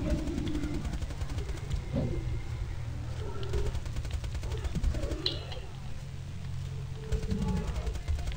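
Rapid gunfire from a small gun in the video game Borderlands 2 crackles in quick bursts over a busy game soundscape, with some faint voices in the mix.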